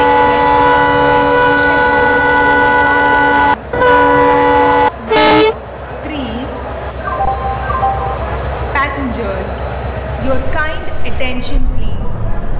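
AC double decker superfast express in Indian Train Simulator, with a loud sustained multi-tone train horn, abrupt cutoffs and short blasts, then rumbling movement with further toots; a station announcement voice speaks over it.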